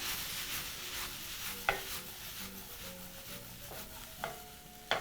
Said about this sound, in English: Now proceed to give that a toss.